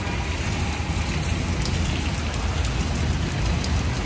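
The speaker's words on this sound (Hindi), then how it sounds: "बारिश चालू हो गया, अच्छा खासा बारिश है देख लो।" Heavy rain pours steadily in Bangalore, a dense continuous hiss of drops striking surfaces close by, with no voices heard.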